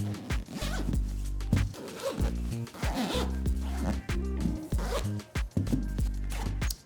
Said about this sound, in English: use the compression zipper